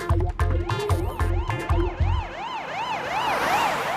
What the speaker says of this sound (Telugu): అరే రే, అంబులెన్స్ కూడా వచ్చేస్తుంది.